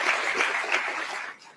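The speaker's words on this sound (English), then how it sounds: "Please give them a round of applause." Audience applause after thanks to sponsors at a Detroit pancake-breakfast policy forum, a dense steady patter of clapping that fades away near the end.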